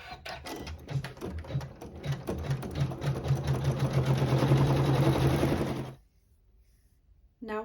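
An embroidery sewing machine stitches a tack-down line through two fabric pieces, a fast, even mechanical chatter lasting about six seconds before it abruptly stops.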